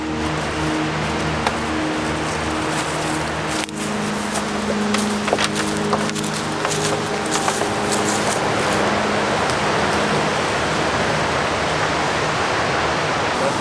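Ocean surf breaking along the South Coast, a steady broadband wash of waves with a few louder crashes, continuous and fairly close, with no voices.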